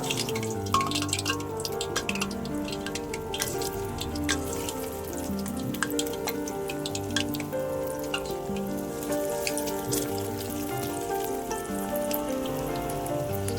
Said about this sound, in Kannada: ಇವಾಗ ನಾವು ಹೂಕೋಸ್ಗೆ ಮಸಾಲ ಹಾಕಿ ನೆನ್ಸಿಟ್ಕೊಂಡಿದ್ವಲ್ಲ ಅದನ್ನ ಎಣ್ಣೆಲಿ ಬಿಟ್ಟು ಫ್ರೈ ಮಾಡ್ಕೊಳ್ಳೋಣ